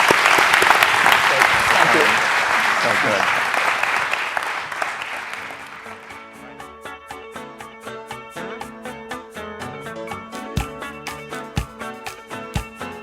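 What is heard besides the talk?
audience applause at a conference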